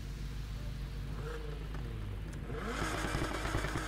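A car in the racing game Need for Speed Heat spins its wheels and revs hard, the engine roar rising and growing louder toward the end, alone without talk.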